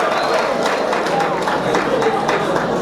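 Crowd applause for President Félix Antoine Tshisekedi at a public gathering, a dense, steady wash of clapping, with voices mixed in.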